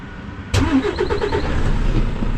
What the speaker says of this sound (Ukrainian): Йдемо пробувати, чи машина заведеться без проблем.